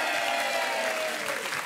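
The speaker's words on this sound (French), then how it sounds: "Applaudissements pour Jean-Jacques et Claire." A studio audience on a French television dating show applauds steadily for a couple arriving on set, a dense, even burst of clapping lasting under two seconds with no voices over it.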